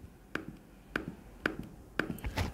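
An Apple Magic Keyboard trackpad being pressed, four crisp, light clicks spaced about half a second apart, close and quiet against faint background noise.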